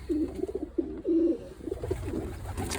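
Young pigeons in a loft give soft, low coos in a few short separate phrases, faint and close, with quiet background rustle.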